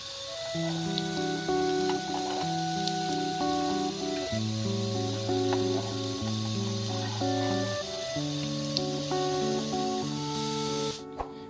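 Beef seekh kababs sizzle as they fry over medium heat, a continuous soft spitting hiss running beneath louder background music throughout.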